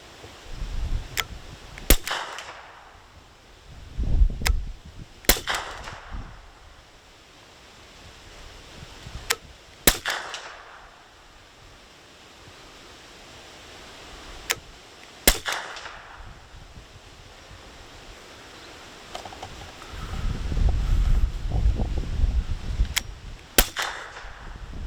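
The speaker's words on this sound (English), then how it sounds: "So I'll just fire 6 shots over to there, and we'll see what sort of noise it makes." Six gunshots ring out one at a time, several seconds apart. Each is a sharp, short crack followed by a brief low rumble, with quiet handling noise between them.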